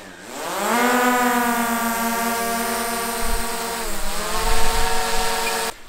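A small drone lifts off and flies in an open outdoor space, its rotors giving a loud, steady whine that rises in pitch at takeoff, holds, then dips and climbs again, with some wind buffeting near the end.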